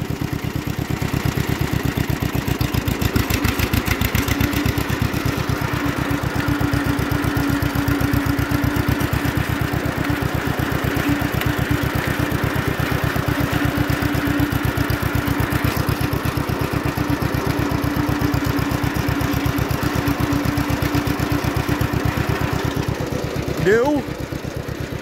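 An old John Deere LI tractor engine runs steadily at close range for the whole stretch, a loud rhythmic low-pitched chugging with a constant beat, while a voice talks over it.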